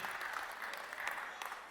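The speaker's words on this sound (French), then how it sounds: "est-ce qu'on peut encore applaudir, s'il vous plaît?" Guests at a Congolese wedding in Iowa City applauding: a continuous crowd of clapping hands, steady and fairly distant, with faint voices mixed underneath.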